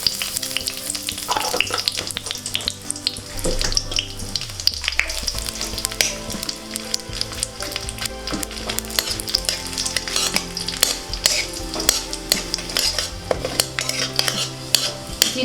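Cumin seeds and a bay leaf crackle and sizzle in hot ghee for a Bengali banana flower curry, a dense, continuous frying hiss with frequent pops and occasional clinks of a spoon against the pan.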